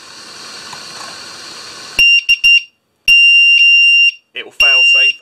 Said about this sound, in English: it will fail safe and initiate the buzzer